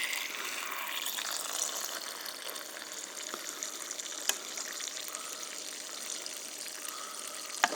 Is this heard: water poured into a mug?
yes